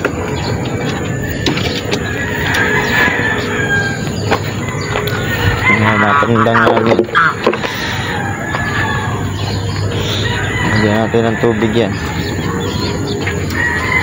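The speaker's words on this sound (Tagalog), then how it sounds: "Dito meron kami isang manok dito." Backyard chickens, including a hen blind in one eye, give soft clucks and short calls amid other poultry and birds, moderately near, while someone talks over them in a farmyard.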